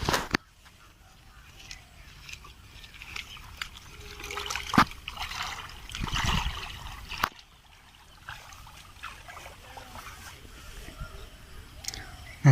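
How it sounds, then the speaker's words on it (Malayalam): Water trickles and gurgles in the small Kariyannur village stream, fairly faint and uneven, with some handling noises and quiet talking in places. "ഇതാണ് ഇവിടുത്തെ തോട്, കരിയണ്ണൂർ എന്നൊരു തോടാണിത്"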